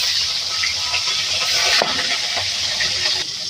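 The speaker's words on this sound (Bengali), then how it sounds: "এখন মাছগুলো ভেজে নিই" Fish fry in hot oil with a steady, close hiss and faint crackle, and a brief scrape partway through, with no one speaking.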